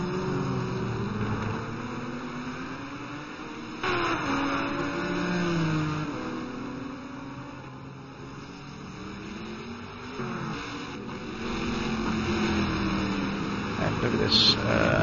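GT race cars battling for position on track at Sebring during a 12-hour endurance race, engines droning and rising and falling in pitch continuously under steady commentary.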